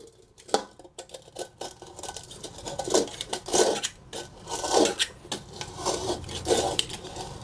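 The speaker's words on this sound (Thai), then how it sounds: "เราจะต้องขูดเอาคราบที่เกาะอยู่ตาม ก้นกระทะเราออกก่อนนครับ" A large cutter blade scrapes burnt residue off the bottom of a blackened cooking pan in repeated rough, rasping strokes that rise and fall in a steady rhythm, close and alone.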